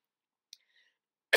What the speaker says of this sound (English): I have literally been battling this cough for what feels like 2 months already